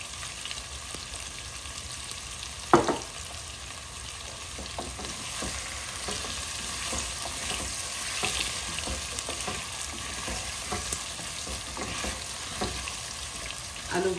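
Potatoes frying in a large cooking pot, giving a continuous crackling sizzle with scattered light scrapes and clinks of stirring and one sharper knock early on, with no talking.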